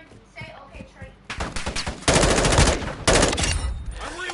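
Call of Duty gunfire rattles in rapid automatic bursts, loud and close, with sustained strings of shots broken by short pauses and a quieter lead-in of game sounds before the firing starts.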